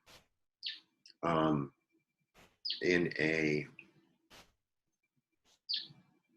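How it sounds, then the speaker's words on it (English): Sparrows chirp in a few short, high tweets scattered between stretches of someone talking, each call brief and moderately close. "they're sparrows, they're not finch."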